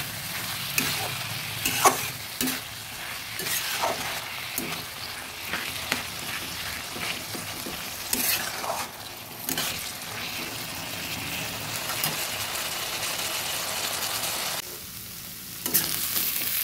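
Banana flower cutlet filling being stirred and fried in a pan, a continuous sizzle with repeated spatula scrapes and knocks against the pan in an uneven rhythm, close and fairly loud, no talk.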